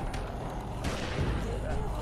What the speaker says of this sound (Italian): Sparo a Kenny.